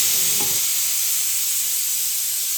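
Hot cooked rice being drained in a home kitchen, a steady broadband hiss of steaming water pouring off that stays loud and continuous throughout, with a brief low clunk near the start.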